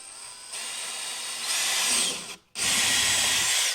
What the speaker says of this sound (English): I'm gonna drill a hole here, and I'm gonna drill a hole here.